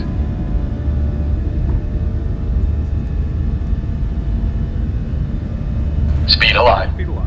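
A new airliner's engines at takeoff thrust make a heavy, continuous rumble that builds slightly toward the end, where a short burst of cockpit voice cuts in over it.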